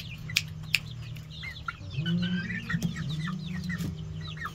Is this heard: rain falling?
no